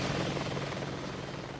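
Apache military helicopter in flight, a steady dense rotor and engine roar holding at constant loudness throughout, with no voices.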